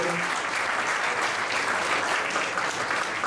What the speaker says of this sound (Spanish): Quisiera que le demos un fuerte aplauso